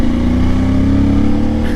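A CFMoto IBEX 450 motorcycle engine holds a loud, steady drone close by, its even throb running without a break through a short stretch.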